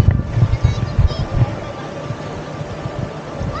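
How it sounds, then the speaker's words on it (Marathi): A boat arrives on the water at Devbaug for a scuba diving trip. A low engine rumble pulses up close under heavy wind noise for the first second and a half, then fades to a steady hum. "आपली बोट आली आहे आणि स्कूबा डायविंगसाठी या बोटने जात आहोत आपण."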